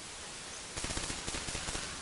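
Rapid gunfire in the video game Team Fortress 2, a quick string of sharp repeated shots starting partway through over a steady hiss of background noise.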